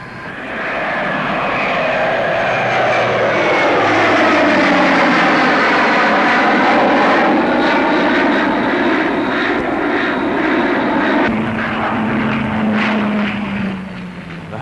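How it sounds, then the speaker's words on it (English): Vickers Viscount turboprop airliner flying a display at Farnborough with two engines stopped and feathered, a loud sustained propeller drone with sweeping, shifting tones as it passes close by, fading at the end. "Vickers Viscount, already on order by British Airlines and powered by turbo propellers, gave a spectacular display with two engines stopped and feathered."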